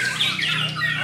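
A bird gives a sharp squawking call, bright and harsh, repeated in quick bursts over a short moment, fairly close and loud.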